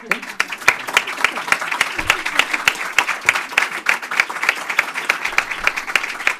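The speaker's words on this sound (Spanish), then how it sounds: "es un aplauso para él por lo que hizo" An audience at a positive psychology conference bursts into applause, loud, dense clapping with distinct sharp claps near the front, sustained evenly for several seconds.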